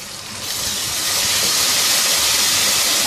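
Potatoes, garlic-ginger paste and coriander powder frying for aloo pulao give a loud, steady close sizzle with a bright hiss that swells a little and holds evenly throughout.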